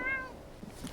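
A house cat gives a short, close meow with a clear rising-falling tone that fades quickly into quiet room noise.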